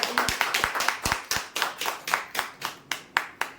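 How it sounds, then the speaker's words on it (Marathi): Steady hand clapping from a small crowd at a weekly prize-draw event, a run of sharp, evenly spaced claps for the winner, fairly close and alone with no talk. "जोरदार टाळ्या होऊ द्या"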